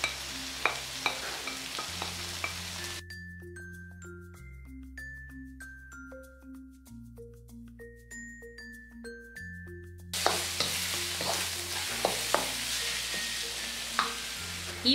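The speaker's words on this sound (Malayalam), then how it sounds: "ഇതൊന്ന് 2 മിനിറ്റ് വഴറ്റിയ ശേഷം ഇതിലേക്ക് എടുത്തു വെച്ചിരിക്കുന്ന പൊടികൾ ചേർത്ത് ഒന്നും കൂടി ഇതൊന്ന് വഴറ്റി യോജിപ്പിച്ചെടുക്കാം" Spice powders sautéing and being stirred in a pan for a chicken filling, with close sizzling and scraping at the start and end and background music carrying the middle stretch.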